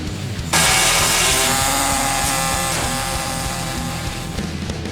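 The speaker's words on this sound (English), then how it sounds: "I tried with the air saw, but it wasn't really working the way I had wanted it to" A pneumatic air saw bites into sheet metal on a Chevy street car project, a loud, steady rasping buzz with rapid reciprocating texture that starts abruptly and runs continuously up close.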